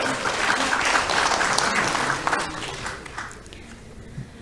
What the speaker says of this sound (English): So a round of applause for our very esteemed panel.